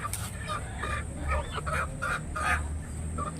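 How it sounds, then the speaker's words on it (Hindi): Desi village chickens, pure Gaurani hens, cluck and squawk at the Sarangarh poultry market in Chhattisgarh, a run of short, close, repeated calls over steady market bustle. "ये मुर्गी जो देख रहे हैं साथियों, गांव का प्योर गौरानी मुर्गी है।"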